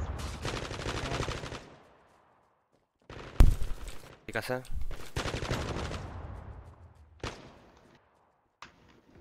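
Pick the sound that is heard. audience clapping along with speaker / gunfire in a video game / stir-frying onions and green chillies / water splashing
gunfire in a video game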